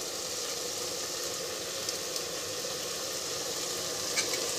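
Mint leaves fry in hot oil for a tomato bath, giving a steady, dense sizzle that stays even throughout with a few faint clicks and no voices.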